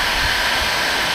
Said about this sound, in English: we're going to take our heat gun